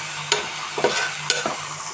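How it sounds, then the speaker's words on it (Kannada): Masala sizzling in a hot pan for tomato bath while a spoon stirs it, a steady frying hiss broken by a few scraping stirs. "ನೀಟಾಗಿ ಫ್ರೈ ಆಗಲಿ"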